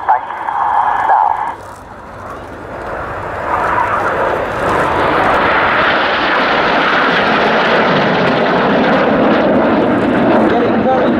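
A Red Arrows Hawk jet in a flying display at RAF Waddington trailing red smoke, its engine roar swelling from a brief lull into a loud, sustained broadband rush while a commentator talks over a public address.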